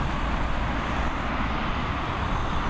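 Aer Lingus A320 airliner at Dublin Airport, a steady broadband engine roar with constant loudness, no distinct events, heard from a moderate distance with no voices.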